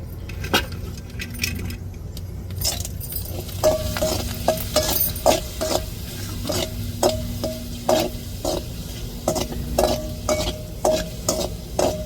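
Food frying in oil until crisp, a steady sizzle broken by frequent sharp metallic clinks and scrapes of a utensil against the pan.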